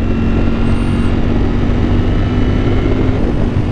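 A Ducati Panigale V4 S motorcycle accelerates hard at triple-digit speed, producing a loud, continuous engine drone under heavy wind rush that holds steady from start to finish with no talking.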